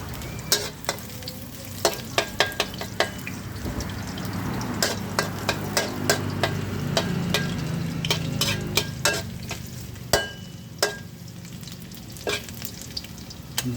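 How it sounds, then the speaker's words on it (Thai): Bitter gourd stir-frying in a hot pan, a steady sizzle broken by sharp scrapes and clacks of a spatula against the metal at an irregular rhythm, close and clear with no talk. "เราจะเตรียมลงไปผัดให้หอมเลยครับ"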